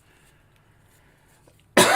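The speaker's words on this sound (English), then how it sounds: "I coughed right in the direction of the microphone." After near silence, a single sudden loud cough bursts right into the microphone at close range, harsh and explosive.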